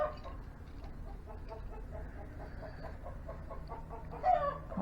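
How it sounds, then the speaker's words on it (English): Chickens cluck softly at Maplewood Farm in a series of quiet, irregular calls over low background rumble, ending with one slightly louder squawk. "very beautiful chickens around Maplewood Farm"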